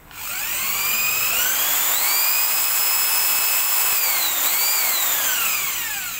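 Hitachi cordless power drill/screwdriver running, a whining motor tone that climbs, holds and dips with trigger speed changes, steady and close without talk.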